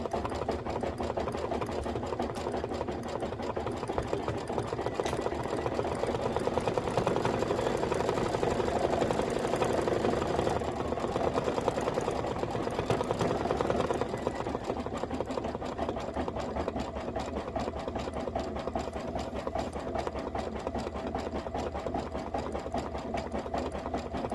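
A Kimberbell embroidery machine stitches steadily through a table topper project at close range. Its rapid mechanical needle chatter runs continuously and evenly for the whole stretch.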